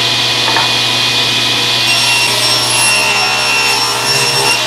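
A table saw rips a wooden board guided along the fence, a loud continuous buzzing cut with a high whine rising partway through, steady and close with no talking.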